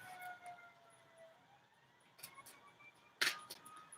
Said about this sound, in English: Can you guys hear the sirens outside of my window?